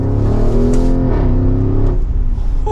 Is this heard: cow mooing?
no